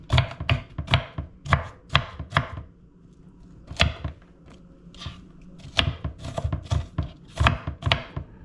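A knife rough-chops an onion on a board in quick bursts of sharp, close thuds, pausing briefly in the middle before another run of rapid chops.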